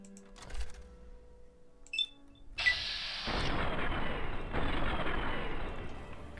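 Gunshots in the video game Fallout: New Vegas, a few sharp scattered cracks followed by a louder burst of noisy firing and rumble, no talk.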